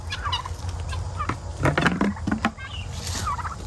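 A flock of farm turkeys and fowl gobble and call in repeated overlapping bursts near and far, over steady outdoor background noise.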